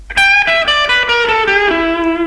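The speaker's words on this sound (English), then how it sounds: "Start with the 12th position and play the blues scale." A guitar plays the blues scale in 12th position, a descending run of around eight bright picked notes, each clearly separated, finishing on a longer held note, close and unaccompanied.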